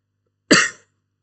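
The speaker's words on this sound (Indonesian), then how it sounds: "Sorry ya, saya agak batuk" A single short, sharp cough from someone with a cold, loud and close, bursting out abruptly and fading within about a third of a second, alone in an otherwise quiet room.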